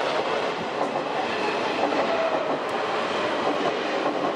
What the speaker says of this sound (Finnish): Ja tässä itse menee tää metrojuna